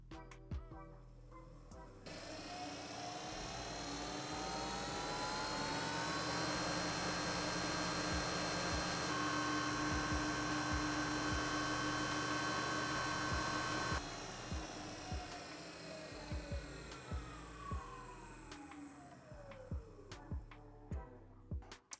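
An alternator spins on a test bench under a 150-amp maximum load, giving a steady loud mechanical whine and hum with rising and falling tones, then easing off near the end amid scattered clicks.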